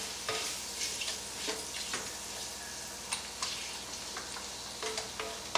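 Onion and garlic being stirred in a hot pan for a shrimp sauce, a steady sizzle broken by repeated scraping clicks of the spoon against the pan, close and moderately quiet, with no talking.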